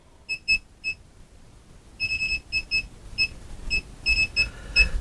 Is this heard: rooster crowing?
no